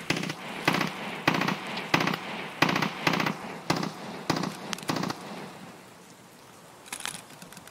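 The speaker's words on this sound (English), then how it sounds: "I'm getting shot." Gunfire in the game Escape From Tarkov: about a dozen sharp bursts of automatic shots in a fast irregular rhythm, loud and close, then a quieter pause and a final distant burst.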